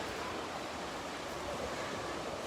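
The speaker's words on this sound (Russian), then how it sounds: "Очень хорошие волны." Sea waves breaking on a shore on a warm day at the beach, a steady full roar of surf and wash filling the whole stretch with no pause, close and fairly loud, with no voices.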